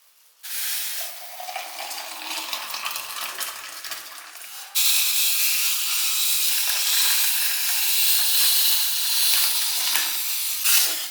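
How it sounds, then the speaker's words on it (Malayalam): Tea boiling in a pot on a home kitchen stove during breakfast, a continuous hissing, bubbling sizzle that swells louder halfway through and carries on steadily, close by and alone. "ചായ ഇവിടെ തിളയ്ക്കുന്നുണ്ട്."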